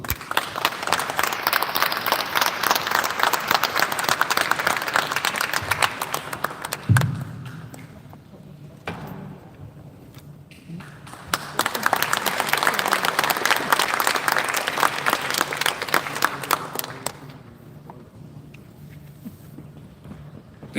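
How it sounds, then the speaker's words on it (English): A seated audience at a book launch event at Canadian University of Dubai applauds in a long sustained round that dips in the middle, swells again to a full crowd clapping, then thins out toward the end. "To give a round of applause."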